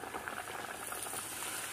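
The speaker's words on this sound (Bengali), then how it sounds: "এইভাবে আমি সবগুলো পুরি এক এক করে ভেজে নিচ্ছি" Puris deep frying in hot oil give a steady, dense bubbling sizzle that stays close and even, with no voices over it.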